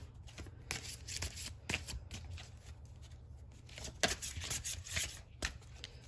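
Playing cards being shuffled during a spirit card reading, a steady papery riffle and flutter with sharp slaps of cards landing, close and fairly loud throughout, no talking.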